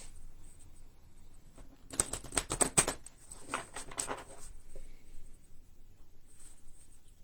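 Tarot cards are shuffled close by in a quiet room, a soft flurry of riffling and slapping lasting a couple of seconds, followed by a few lighter flicks.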